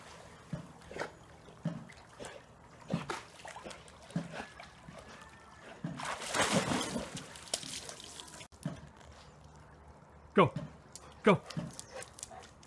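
A dog going for a swim, with scattered drips and a longer burst of splashing water midway, plus a few soft dog whimpers and sounds; a person speaks encouragingly at moments.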